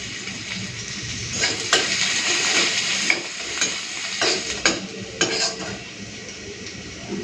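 Crushed garlic and dried red chillies fry in hot oil with a steady sizzle, while a utensil stirs and scrapes against the pan in sharp, irregular clinks close by.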